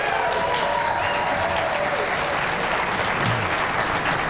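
An audience at a late-night talk show bursts into steady, dense applause that holds at full strength for several seconds, close and loud, with a voice faintly audible underneath.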